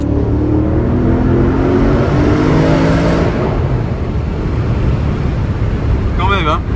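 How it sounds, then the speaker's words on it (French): A Porsche Cayenne Turbo S with a 680-horsepower V8 revs loudly inside a tunnel, its deep roar sustained and echoing for several seconds before easing, with a brief higher chirp near the end. "Forcément, on résiste pas à l'envie d'écouter ce V8 de 680 chevaux."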